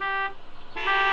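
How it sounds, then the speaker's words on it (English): A car horn sounds in two short blasts with a brief pause between them, fairly loud and close, with no talking. "Those horns are getting just a little too talkative."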